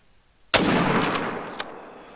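A single loud rifle shot from a hunting rifle in the hunting video game theHunter: Call of the Wild, a sharp crack followed by a long, slowly fading echo.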